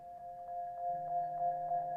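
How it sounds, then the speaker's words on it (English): A soft synth pad from a hip-hop beat holds steady, sustained tones with slight movement, quiet and alone with no drums. "This is what the pad sounds like in the background"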